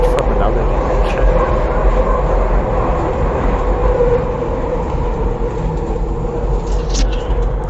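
A SEPTA Market-Frankford Line subway train rumbles loudly and steadily along the tracks, with a thin metallic wheel squeal riding over the constant roar for the whole stretch.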